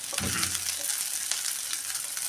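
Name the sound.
onions and garlic frying in a pan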